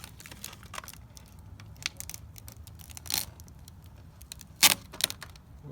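Adhesive backing being peeled off a letter emblem on a third-generation Toyota Tacoma, faint crinkling plastic and small scrapes with a few sharper crackles, close and quiet with no talking.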